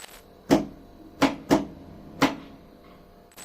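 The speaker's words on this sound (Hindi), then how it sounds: "अगर आपने कभी पुराना इलेक्ट्रिकल पैनल खोला है तो लाइट जलने या मोटर चालू होने पर क्लिक की आवाज जरूर सुनी होगी" A relay in an old electrical panel clicks as it switches lights or a motor on and off: four sharp, close clicks in two uneven pairs, separated by quiet gaps.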